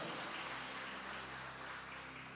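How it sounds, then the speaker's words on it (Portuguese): Steady, dense applause from a church congregation fills the whole stretch, even and sustained with no voices standing out. "Glória a Deus, aplaude o Senhor"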